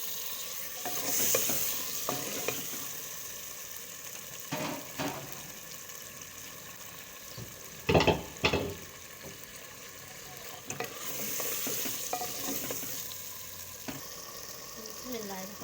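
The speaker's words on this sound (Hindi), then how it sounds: "अब मैं डालने जा रही हूँ टमाटर, लाल टमाटर।" Red tomatoes drop into a pan of aloo chicken korma and sizzle while a spoon scrapes and stirs, giving bursts of clattering between stretches of steady frying hiss, close by.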